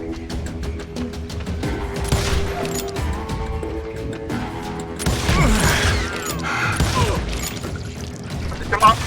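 Gunfire in the Western shooter Call of Juarez: Gunslinger, loud repeated shots and booming impacts layered with crashes and game music, dense and continuous with a voice speaking over it.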